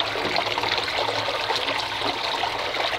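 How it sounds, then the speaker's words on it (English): Water pours and gurgles steadily into an enclosed chamber of a temporary koi pond, a continuous rushing flow with no voices. "So the water flows quite nicely into this chamber"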